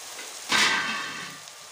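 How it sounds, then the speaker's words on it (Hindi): A spiced raw banana mixture hits a hot kadhai on a medium flame with a sudden burst of sizzling that then settles into a steady, softer frying hiss, close and without any voices. "मिक्स करने के बाद इसे हम 2 मिनट मीडियम फ्लेम पर कवर करके भूनेंगे"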